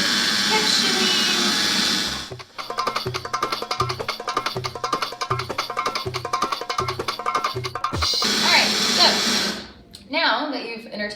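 Electric mixer whirring through paleo vanilla cupcake batter with dry ingredients, a steady buzzing drone for several seconds, framed by louder washes of noise at the start and end.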